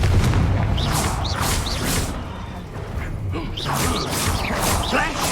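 Blasting-curse explosions go off in the Hogwarts Legacy video game, with booming impacts layered with whooshes and rising magical chirps in dense, busy combat that continues throughout.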